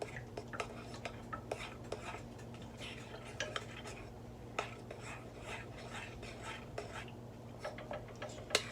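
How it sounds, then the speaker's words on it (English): Protein pancake batter being mixed with water, a steady run of light utensil clicks and scrapes against a bowl over a low constant hum, close and fairly quiet. "I'm gonna keep mixing it."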